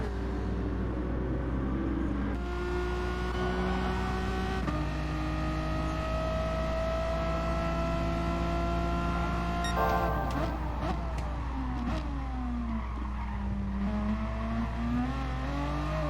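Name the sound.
Dodge Viper car engine revving in a racing video game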